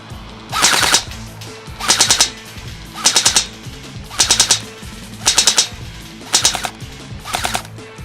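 Valken Battle Machine airsoft gun fires seven sharp, rapid bursts at an airsoft club match, each a loud rattling string of shots separated by short pauses.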